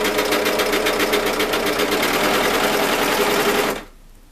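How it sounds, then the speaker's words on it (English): An overlocker sews down the sides of homemade zero-waste face wipes, a loud rapid mechanical chatter running continuously for several seconds before stopping abruptly. "So we're just going to overlock down the sides."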